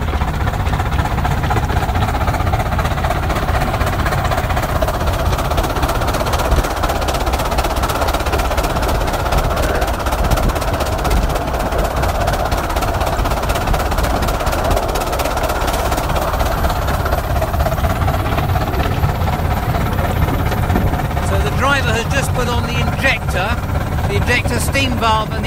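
From the cab of an RHDR miniature steam locomotive, a loud, dense rumble and rapid mechanical clatter run on without a break, with steam hiss and metallic rattles near the end.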